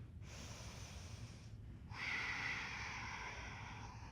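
A person breathes audibly while holding yoga mountain pose, one long, soft breath drawn in through the nose, a short pause, then a longer, fuller breath, close and airy with no talk.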